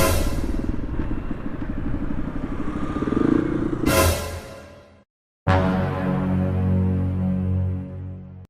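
A motorcycle fitted with a Qala Performance racing exhaust revs up loudly and then cuts off, falls silent briefly, and settles into a steady, throaty idle close by.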